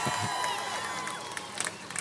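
A large outdoor crowd at a women's march rally in Houston cheers and murmurs in a steady, moderately distant wash of voices with scattered shouts.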